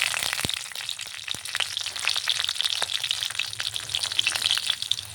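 Nigella seeds and six slit green chillies sizzle in about four teaspoons of hot oil for a fish rasa, a steady crackling hiss with sharp pops, close and loud, with no voices.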